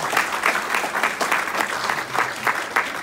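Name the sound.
audience applause for a speaker, Dr. Matthew Tan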